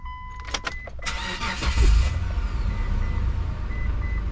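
A Mitsubishi Montero engine cranks and starts after the key is cycled, with a loud burst from the starter catching into a steady idle that carries on alone to the end.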